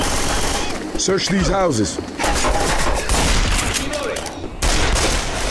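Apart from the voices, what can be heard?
gunfire in video game Left 4 Dead 2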